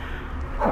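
A dog barks once or twice indoors, a short, fairly close bark over a steady background of game sound.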